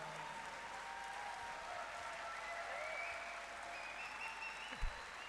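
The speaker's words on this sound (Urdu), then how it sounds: "آپ کی تالیوں کی گونج رہنی چاہیے جب تک وہ بیٹھ نہیں جاتے جناب" Applause from a seated audience at a motivational speech event, a soft, distant, continuous patter of clapping holding steady throughout, with one brief thump near the end.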